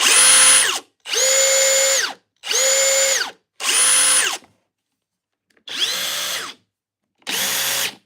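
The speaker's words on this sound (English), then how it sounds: "It's probably the loudest impact I got right here." A RIDGID 4-mode impact driver fires in six loud bursts of rapid hammering rattle, each about a second long, separated by short pauses, close and without talk.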